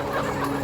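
Hens clucking steadily inside a poultry house full of young pullets, a dense overlapping chorus of many birds close by with no talking.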